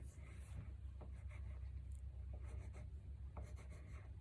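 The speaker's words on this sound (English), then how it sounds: "now you're ready to go ahead and write it on the lines" A pencil writes on lined paper in soft, continuous scratchy strokes over a steady low room hum, with no talking.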